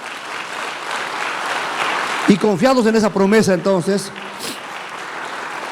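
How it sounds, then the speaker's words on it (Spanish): A church congregation claps for the Lord after a sermon promise, a broad wash of applause running throughout, with a Spanish-speaking preacher's voice rising over it midway. "Demos un fuerte aplauso al Señor por esa promesa."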